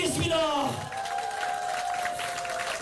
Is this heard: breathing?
no